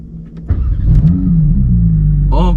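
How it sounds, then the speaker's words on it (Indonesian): A Porsche 911 GT3 (992) with a naturally aspirated engine cranks briefly, then fires with a sharp burst and settles into a loud, rumbling idle, and a short rising rev comes near the end. "langsung aja kita nyalain mobilnya"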